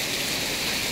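Steady broadband hiss of rain falling outdoors on a rural farm with vegetable garden and rice fields, constant and fairly loud with no talk.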